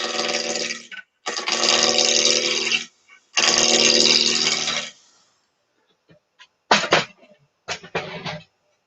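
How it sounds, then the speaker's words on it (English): A roughing gouge cuts a spinning wood blank on a lathe running at about 1200 rpm, shaping a wine glass. Loud, gritty bursts of tearing and buzzing come in several passes lasting a second or two, separated by gaps. "I'm just going to use my roughing gouge just to get it down into round."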